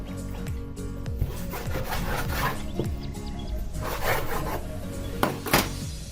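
A knife saws back and forth through a pork loin, cutting it in half; close, rasping strokes repeat steadily throughout, with a few sharper knocks near the end.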